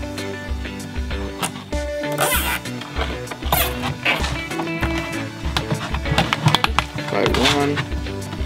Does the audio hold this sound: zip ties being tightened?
yes